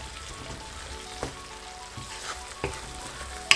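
Masala and tomatoes fry in a pan for turnip saag, giving a soft, steady sizzle. A few sharp clicks of stirring cut through now and then, and the whole sound stays fairly quiet and close.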